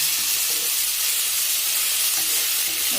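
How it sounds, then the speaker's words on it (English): Grated onions and cumin seeds fry in hot oil, giving a steady, bright sizzle that stays loud and even throughout with no talking. "I'm going to fry this onion till it becomes a little brown."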